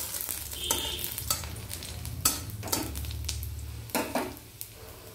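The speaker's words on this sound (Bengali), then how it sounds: "বন্ধুরা, কড়াইয়ে এবার রসুন আর শুকনো লঙ্কা দিয়ে দিলাম।" Garlic and dried red chillies crackle in hot oil in a wok, a bright continuous sizzle broken by several sharp scraping stirs of a metal spatula, close and loud with no voices.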